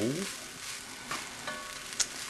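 Egg stirred into fried rice in a hot pan gives a steady sizzle and frying crackle, with a few brief scraping stir sounds and one sharp clink near the end, heard close with no talking.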